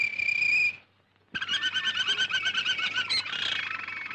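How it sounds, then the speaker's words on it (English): A caged canary sings close by in bright, high trilling phrases: a short warbling burst, a brief pause, then a longer run of rapid chirps and whistles, with no talking. "I want a canary for company."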